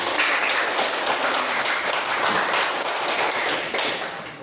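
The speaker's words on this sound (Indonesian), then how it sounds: "Kita beri tepuk tangan." Students in a classroom applaud a group presentation, a dense, steady wash of many hands clapping together that holds at an even level throughout, with no talk over it.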